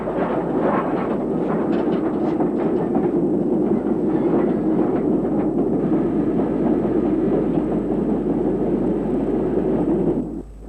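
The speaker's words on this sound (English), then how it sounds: "A former LMS Hughes designed 260 of 1926. These locomotives were affectionately known as crabs" An LMS Hughes 2-6-0 'Crab' steam locomotive of 1926 design running on British rail, a steady loud rumble and rolling clatter of train wagons throughout, fading slightly at the very end with no voices.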